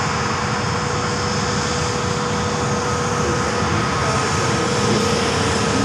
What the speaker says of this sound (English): Frontier coming over on a 320 Neo.